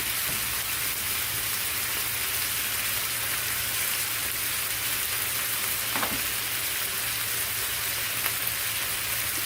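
Steady, crackling sizzle of noodles frying in a pan for a chicken and shrimp stir fry, continuous and close, with a few faint clinks of stirring.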